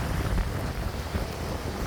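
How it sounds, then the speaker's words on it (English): Strong wind at Scotts Head, New South Wales, buffets the microphone with a constant low roar and rumbling gusts, with no voices. "It's a pity it's so windy"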